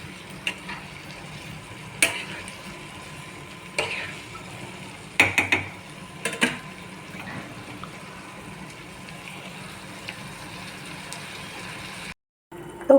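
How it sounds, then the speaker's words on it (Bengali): A spice paste of salt, turmeric, cumin and coriander powder mixed with water cooks in a pan for potol and potato katla fish curry, a faint steady sizzle with a few sharp scraping stirs and clanks in the middle. "এবার এটা একটু কুক হবে, মশলাটা ভালো করে কষবে।"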